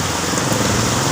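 Heavy rain pours in a dense, loud, continuous hiss, with no break through the short stretch.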